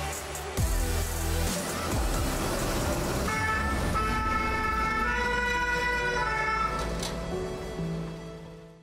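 A French fire truck leaves on an emergency call with its siren wailing loudly and steadily over engine rumble, holding up close throughout.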